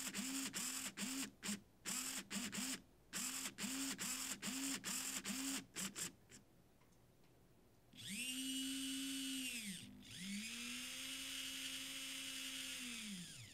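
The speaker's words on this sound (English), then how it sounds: "you can use the sliders to move your servos." Small hobby servos driven by a Pololu Maestro servo controller whine quickly back and forth in a rapid run of short, repeated movements, then make two longer sweeping whirs. The sound is close and quiet, with no talk.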